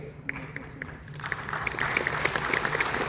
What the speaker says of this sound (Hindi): ताली मारने में संकोच मत करिए